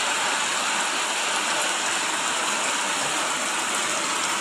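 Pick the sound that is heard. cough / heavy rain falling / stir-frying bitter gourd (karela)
heavy rain falling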